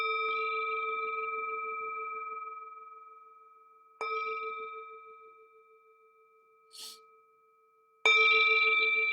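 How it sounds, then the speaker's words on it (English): A meditation bell is struck to open a group sitting, ringing out clear and sustained with a long decaying tone, then struck twice more at intervals, each strike blooming bright before fading; a faint soft tap falls between. "I'll ring the bell to begin and then ring the bell when it's over."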